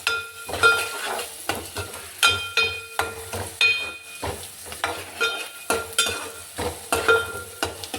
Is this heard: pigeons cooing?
no